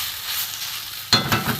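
Spices for an okra curry fry in a kadai with a soft, steady sizzle, then a sudden louder scrape and hiss of stirring near the end.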